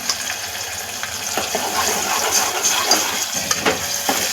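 Coconut, tomato and onion paste dropped into hot oil for a dhaba-style mutton curry, giving a steady close hiss and crackle with brief spattering pops throughout.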